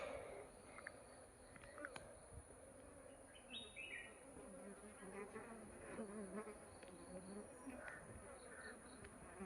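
Honeybees from a divided colony buzz softly around an opened hive frame. A faint, steady hum continues throughout, with a few bird chirps in the background, at low volume and without speech.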